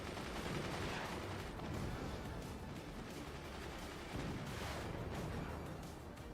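Manual anti-air guns in the game Moonshot fire continuously at incoming howitzer rounds, a dense, unbroken rattle of rapid gunfire and distant blasts at moderate, steady volume, with no voices.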